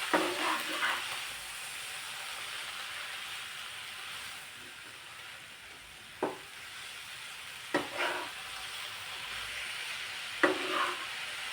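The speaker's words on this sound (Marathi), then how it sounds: "आता यात आपण ही धुतलेली मेथीची भाजी टाकून परतून घेणार आहोत" Washed fenugreek leaves sauté in a pan over a soft, continuous sizzle and hiss, broken by a few sharp clinks and scrapes from stirring that stand out at intervals.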